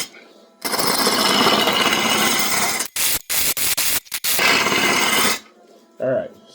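A chisel carving a wooden vase gives loud, steady rasping and scraping for several seconds, then a few short, choppy scrapes before the sound stops.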